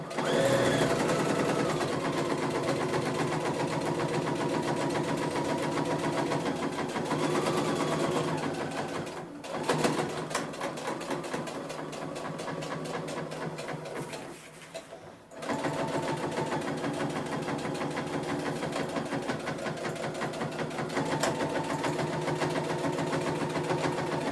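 A domestic sewing machine runs steadily while back stitching a trouser hem, its motor whirring loud and close, with two brief pauses where it stops and restarts in reverse.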